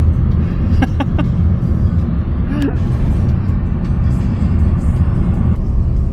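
A car overtaking another vehicle on a road with heavy traffic jams, heard from inside as a steady loud low engine and road rumble, with a brief higher tone partway through.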